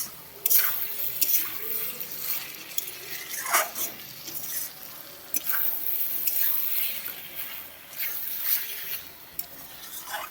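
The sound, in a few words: chickpeas being stirred and sautéed in oil in a pan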